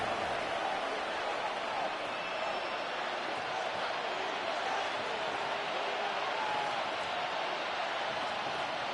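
Stadium crowd noise from an EA Sports football video game during a Cowboys versus Giants matchup, a dense, steady roar of cheering that stays even and moderately loud throughout.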